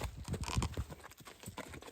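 Draft mares walk at an easy pace, their hooves clip-clopping in an irregular, moderately close series of soft thuds over faint background noise.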